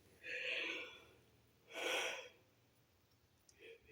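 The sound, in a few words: yawning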